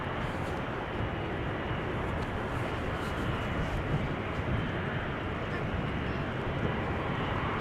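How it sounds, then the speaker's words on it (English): A Turkish Airlines Airbus A350-900 at Amsterdam Schiphol gives a steady, loud broadband roar of jet engines that holds evenly throughout, with no voices over it. "So this is the Turkish A350-900 that arrived earlier from Istanbul with the 400th aircraft sticker on it."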